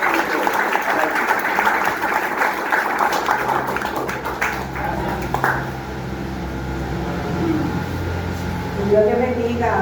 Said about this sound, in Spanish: Vale un fuerte aplauso a quien vive.